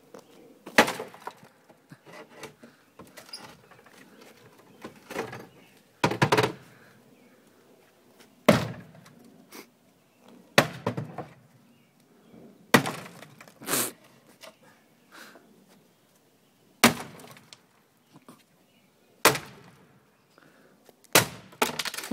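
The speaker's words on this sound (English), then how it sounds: "continuation of destroying the shit out of this old dresser" An old wooden dresser being smashed apart, with sharp cracking, splintering blows and thuds landing every couple of seconds in an irregular rhythm, loud and close, with quieter clattering of debris between the hits and no talk.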